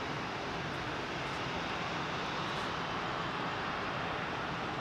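Aircraft arriving at London Heathrow Airport give a steady, broad, rushing roar that stays even and fairly loud throughout, with no voices.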